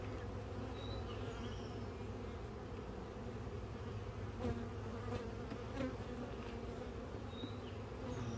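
Honeybees buzz around a hive in a bee yard. The hum is dense and steady, with a few individual bees passing closer now and then. No voices are heard.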